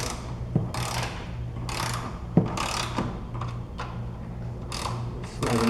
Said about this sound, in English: So I'm going to use my torque wrench here.